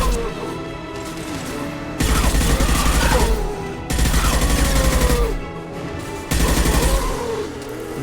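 Three long bursts of rapid machine-gun fire in the video game Mass Effect 2, loud and close, separated by brief pauses with a steady background drone and faint other sounds.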